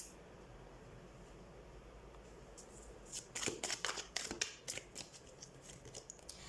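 Tarot cards shuffled by hand, quiet at first, then a burst of crisp riffling and snapping flicks with irregular card slaps, close and with no voice.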